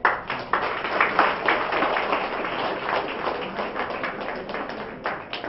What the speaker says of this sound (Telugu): Give a big clap.